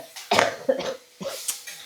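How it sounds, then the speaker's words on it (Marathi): A person coughs in a few short, harsh bursts at close range, three or four separate hacking sounds spread over about two seconds, each sharp onset fading quickly, with no talking. "खोकताना तोंडावरती हात ठेवायचं असतं"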